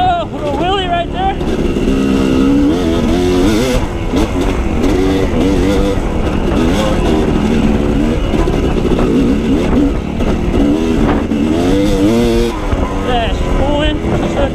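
Motorcycle engine running hard and pulling, loud and close, with revs rising and falling throughout while someone talks over it.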